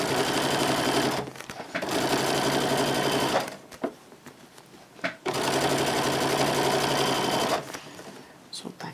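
A sewing machine stitches along the edge of a fabric diaper-changing bag in close, loud, rapid bursts. Pauses between runs bring handling noises, and a person talks over the sewing.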